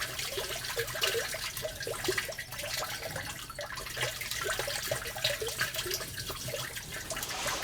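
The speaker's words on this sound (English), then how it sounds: "now we have to get all the smaller stones out by making it into a slip and pouring it through sieve" Clay slip, made from dug earth, is poured through a sieve to strain out small stones, giving a steady watery trickle and splashing with faint irregular drips, close and continuous, with no talking.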